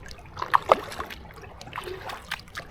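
Soft strokes of an inflatable kayak's paddle dip into calm water, with a couple of light splashes and gentle trickling between them.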